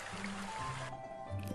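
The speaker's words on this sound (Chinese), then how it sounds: "此时陈青海的儿子正在山间的小溪中玩耍" A small mountain stream trickles and gurgles over sand and stones, a gentle, continuous flow heard up close at moderate volume.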